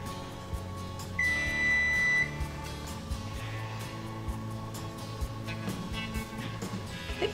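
A kitchen oven signals that it has finished preheating with a single steady electronic beep lasting about a second. The beep sounds clearly over quiet background hum and faint clatter, with no talking.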